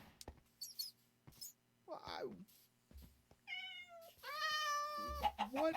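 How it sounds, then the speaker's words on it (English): Minecraft cats meowing, several distinct drawn-out meows and a squeaky cry spread across the stretch, near and clear, with sparse light clicks between them. "What is with all of these cats?"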